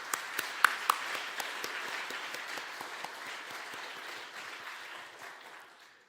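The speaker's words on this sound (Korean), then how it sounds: "큰 격려의 박수를 부탁드립니다" Applause from a church congregation at a spring revival service, a dense wash of clapping that starts with a few sharp claps, holds steady, then tapers off toward the end.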